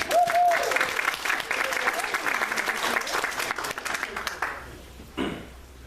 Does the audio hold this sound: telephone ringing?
no